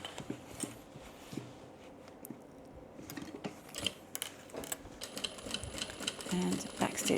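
A sewing machine backstitches a seam on a tote bag, producing quiet, quick mechanical chattering in short runs with a person speaking over it.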